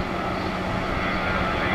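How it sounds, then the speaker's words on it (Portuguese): An airliner being towed by a tractor out of the aircraft parking area at Guarulhos airport in São Paulo, heard as a steady, broad engine and machinery rumble that fills the whole moment without breaks. "Primeira vez que eu estou vendo aqui um avião sendo puxado pelo trator, saindo daqui desse estacionamento aqui de aviões."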